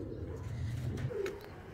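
Pigeons in a loft during hot summer weather give soft, low rolling coos, a close murmuring call that swells and fades once against faint background noise.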